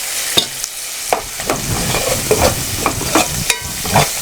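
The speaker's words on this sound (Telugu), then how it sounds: "మెంతిని ఒక రెండు నిమిషాలు ఆయిల్లో వేయించుకొని" Fenugreek leaves fry in hot oil with turmeric, a loud close sizzle broken by repeated scraping stirs at a quick, uneven rhythm, no voices.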